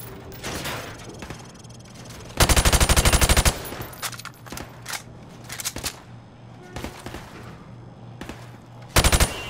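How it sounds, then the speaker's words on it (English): Bursts of automatic rifle fire crack through plywood targets on a Call of Duty firing range, with sharp loud volleys separated by quieter pauses and scattered single shots. "I want you to shoot the targets through the wood."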